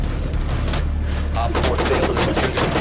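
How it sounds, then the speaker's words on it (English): Gunfire in the video game CLRP Siege, a rapid stream of sharp shots rattling over a constant low rumble, with excited voices shouting over the barrage. "Kill him, Keaton, shoot him!"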